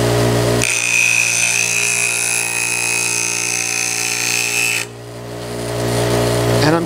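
A hand plane blade is ground to a camber on a grinder, a loud, steady high whine with a bright ringing tone that drops off abruptly near the end as the steel leaves the wheel, then the motor hum rises again.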